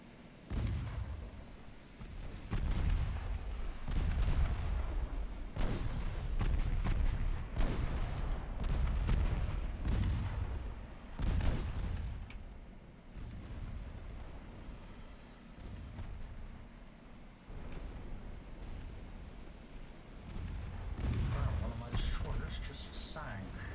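Naval gunfire from battlecruisers in a long-range engagement in the video game Ultimate Admiral Dreadnoughts: repeated heavy low booms and rumbling salvos that swell and fade throughout, with talk running over them.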